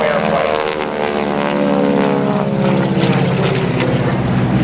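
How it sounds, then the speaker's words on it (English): Aerobatic propeller airplane flown by a veteran airshow performer making a loud, steady pass at a Navy air station airshow, its engine drone holding close and continuous throughout with no talk. "Great shot of this beautiful airplane that Bill has been flying in the air show"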